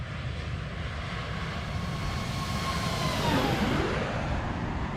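An Airbus A321neo airliner passes by in the X-Plane 12 flight simulator, its engine roar rising steadily and peaking as a sweeping tone descends with the passage, then easing off, with no voices.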